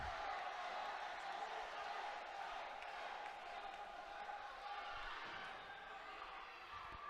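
Wrestling event crowd roaring and cheering steadily in an arena, a loud, continuous wash of voices with scattered whoops throughout.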